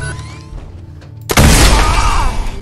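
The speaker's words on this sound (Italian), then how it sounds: "Per fortuna che sto lanciarazzi non fa un'esplosione esagerata" A rocket launcher explosion in Fallout 4 erupts suddenly after a stretch of quiet game ambience, then settles into a loud, sustained roaring blast with debris that fills the rest of the moment.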